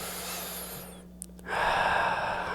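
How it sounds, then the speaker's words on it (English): A single quiet breath drawn in after a short pause, soft and close, ending in an audible intake before the room noise rises again. "take a breath"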